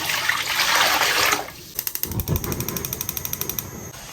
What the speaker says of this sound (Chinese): 锅中加水